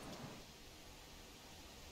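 Rain and thunder in the hunting game theHunter Classic, a steady, quiet wash of rainfall with a faint low rumble near the start, no voices.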